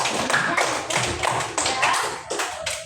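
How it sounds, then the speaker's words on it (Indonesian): A classroom group claps for the first group of students after their presentation, a rhythmic run of sharp hand claps in bursts, close and loud, with no talk. "Tepuk tangan untuk kelompok 1."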